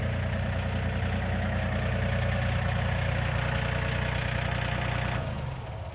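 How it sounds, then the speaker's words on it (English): A tractor engine idling after warming up runs as a steady, loud, low rumble with an even mechanical pulse, then drops in level near the end. "I'm going to go back and turn off my tractor now that I got it warmed up."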